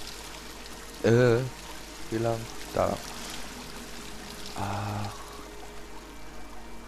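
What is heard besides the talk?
water pouring down like a shower in Dear Esther video game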